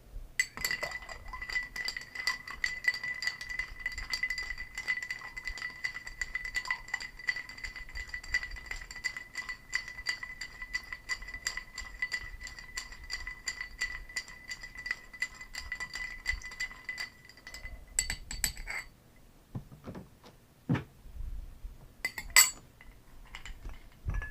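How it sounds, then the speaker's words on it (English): A Fire Eyes cocktail being stirred in a glass, a long run of quick, close metallic clinks and rattles of spoon against glass and ice, then a few separate knocks and taps near the end. "Give it a stir."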